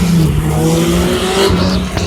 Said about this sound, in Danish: Og herovre kører bilerne også, Jesper.